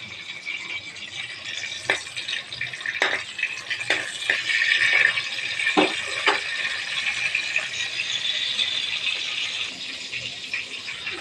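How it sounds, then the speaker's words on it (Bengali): Chili peppers frying in a little oil in a home kitchen on a low gas flame, giving a steady crackling sizzle dotted with sharp pops and spits throughout, with no talk. "আর এটা হচ্ছে একটু মরিচ ভেজে নিচ্ছি, আর একটু তেল দিয়েছি।"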